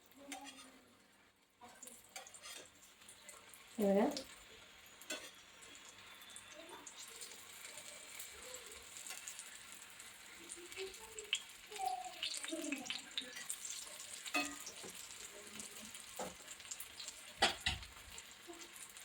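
Crispy brinjal slices frying in a pan over a medium gas flame, giving a soft, steady sizzle with a few clinks and stirring sounds, and no talking.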